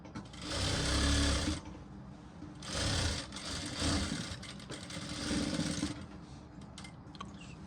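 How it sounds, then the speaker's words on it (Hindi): An electric sewing machine running a double stitch along a long blouse seam, a loud close mechanical whir in several runs of one to two seconds with brief slowdowns between. "डबल सिलाई लगा लीजिए, रजिस्टर सिलाई मतलब"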